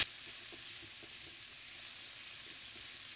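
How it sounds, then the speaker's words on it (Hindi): Samosa filling sizzles steadily in a hot pan, a constant bright frying hiss with faint stirring ticks underneath, close and even throughout. "1 से 2 मिनट हम इसको फ्राई करेंगे।"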